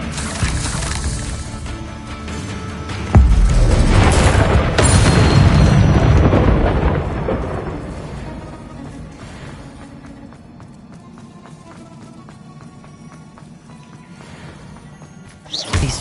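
Hogwarts Legacy spell explosions from Bombarda and Confringo burst loudly, with a heavy boom near the three-second mark that decays into rumbling debris and lower game ambience, then a smaller hit at the end.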